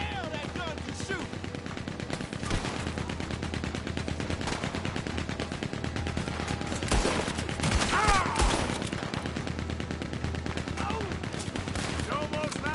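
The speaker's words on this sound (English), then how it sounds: "He's going for the Gatling! Look out, he's firing!" Rapid sustained Gatling gun fire in Red Dead Redemption 2, a dense unbroken rattle of shots filling the whole stretch with other gunfire and action noise around it.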